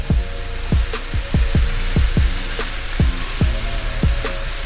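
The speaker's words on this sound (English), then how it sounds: "It's time to flip the shrimp." Shrimp sizzle loudly in a hot pan for seafood pasta, a dense close hiss broken by a quick series of soft thuds and pops as the pieces are flipped one by one.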